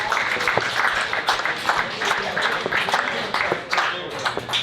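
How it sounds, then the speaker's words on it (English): A comedy show audience gives a round of applause, a fairly loud mass of clapping with some individually audible claps, holding steady and ebbing slightly near the end, with faint crowd voices underneath. "Give them a round of applause"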